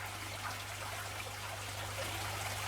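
Water trickles steadily from a sponge filter outlet in a fish tank, a soft, continuous close-up burble with no break and no voices.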